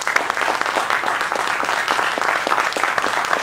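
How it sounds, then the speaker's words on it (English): An audience at a training event at Schoolcraft College claps for the head instructor, a loud, close, continuous round of applause throughout. "let's give Michael, the head instructor here, a round of applause for his training welcome"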